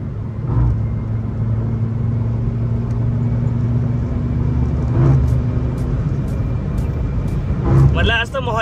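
A BMW 340i M Sport overtakes at high speed on a highway, a loud roaring rumble of engine and road noise swelling as it passes close by, with a person talking over the drone.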